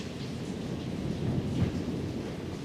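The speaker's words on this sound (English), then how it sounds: "That's thunder." Thunder rumbles through a storm with rain pattering steadily, a low continuous roll swelling slightly midway, heard outdoors near a barn-stored old car.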